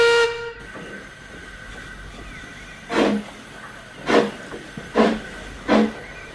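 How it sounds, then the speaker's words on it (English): A sharp whistle blast over a steady steam hiss, then four loud rhythmic chuffs of a steam engine pulling away, evenly spaced and close. "the guard blew his whistle and he puffed away"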